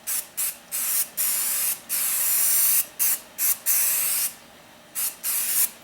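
A can of 3M 77 spray adhesive hisses out in a string of bursts, some short and some held for a second or more, loud and close, with no voices, during restoration work on a Kawasaki KLT 200C.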